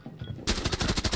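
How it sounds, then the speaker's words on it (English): Rapid gunfire from a tactical first-person shooter video game bursts in after a quiet moment, a loud, evenly spaced string of about ten shots close to the listener. "Oh, nice shooting, Brady."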